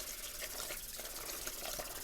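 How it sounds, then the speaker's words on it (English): Rinse water drained off rice for Indian pilau rice, a steady close rushing pour of water that runs without a break and stays fairly loud throughout. "drain the excess water as much as we can"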